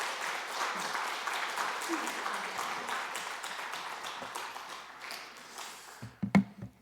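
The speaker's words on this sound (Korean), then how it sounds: "우리 김기훈 목사님 나오실 때 우리 박수로 크게 환영해" A church congregation at a Wednesday prayer meeting applauds to welcome a pastor to the pulpit, sustained clapping that fades toward the end and gives way to a few close taps and thumps as a voice begins.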